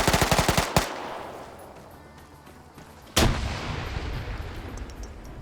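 Video game gunfire: a rapid burst of shots at the start, then quieter rumbling, and a second loud blast that leaves a sustained, echoing roar of fire and explosions.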